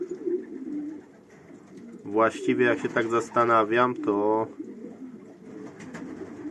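Pigeons in a loft coo in a burst of several rolling, rhythmic calls close to the microphone, while someone talks quietly before and after.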